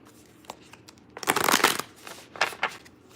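Tarot cards shuffled by hand, a few soft riffles and slides building to a dense flurry of card flicks, then two shorter bursts, close and alone.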